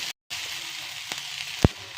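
Onions sauté in a pan for rava adai with a close, steady hiss of sizzling oil, a brief gap near the start and a single sharp clack from the pan later on.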